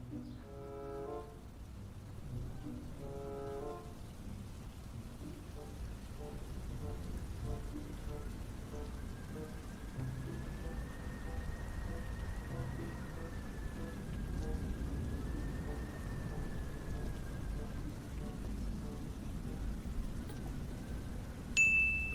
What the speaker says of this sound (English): Lily peeked out the door and confirmed the rain was getting heavier.